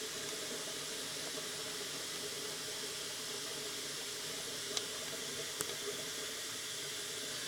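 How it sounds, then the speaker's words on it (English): Cold water runs steadily from a tap into a pot of boiled eggs, a constant close hiss with a couple of faint clicks. "I'm going to run cold water in there"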